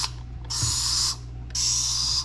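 A plastic spray bottle filled with homemade Dawn Powerwash refill gives two hissing sprays, each lasting about half a second, close and clear over a low steady background hum.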